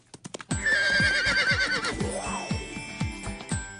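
A horse whinnies loudly and at length while hooves clop in a steady rhythm underneath, after a few short knocks at the start, with faint jingling nearby.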